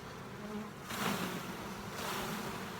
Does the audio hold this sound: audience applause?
no